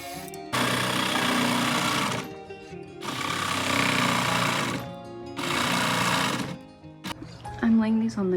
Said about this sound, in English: To cut all these curvy shapes, you need a scroll saw blade in the jigsaw.